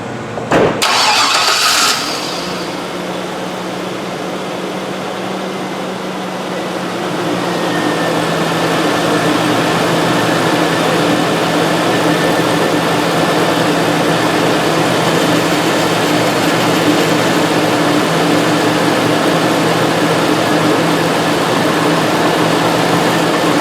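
A truck engine cranks and catches with a sharp start, then settles into a loud, steady idle that continues with a constant hum and slight rise in level.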